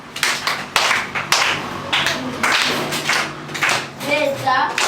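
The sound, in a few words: children clapping hands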